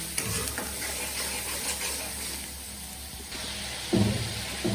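Spices sizzle and fry as they are stirred in a pan for fish-head muri ghonto, a steady close hiss with a brief louder burst near the end.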